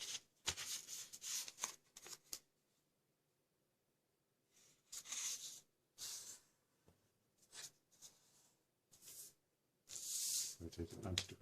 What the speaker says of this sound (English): we're going to fold each corner to the center of the paper again.